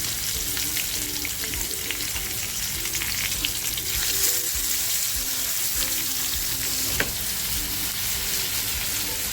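Silver barfish fries in hot oil, a dense continuous sizzle with gentle stirring scrapes and occasional soft clicks throughout.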